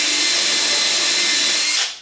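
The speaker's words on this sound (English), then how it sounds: "went in with the drill bit, starting outside the workpiece" A power drill runs at full speed, boring into a metal RV tie-down point, with a steady loud whine held close up that fades out at the end.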